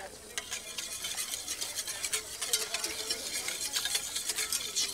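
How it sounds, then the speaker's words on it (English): A puree of green peas being whisked in a pan, a quick, continuous scraping and swishing of the whisk close by, with a faint sizzle underneath. "in my puree of green peas. Give that a bit of a whisk."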